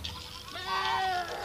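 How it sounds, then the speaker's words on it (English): A young goat bleats once, a wavering high cry rising out of quiet outdoor background noise. "One of the baby goats has gone astray."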